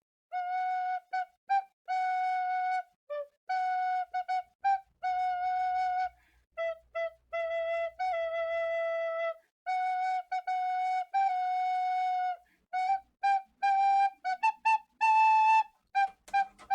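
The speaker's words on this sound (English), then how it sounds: "Tin whistle solo." A tin whistle plays a solo melody, clear and close, in bursts of held and quick tonguing notes with short pauses between phrases. It plays alone with no voices.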